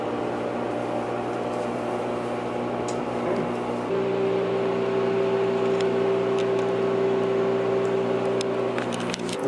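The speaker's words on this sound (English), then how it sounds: "And now we're going to put the applicator on." A CoolSculpting applicator runs on the body, giving a steady, moderately loud mechanical hum with a sustained tonal whine that starts partway through and holds, over faint background noise.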